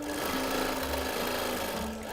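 A quilting machine stitches a pieced quilt with a continuous steady motor drone and rapid needle hum throughout, close and even.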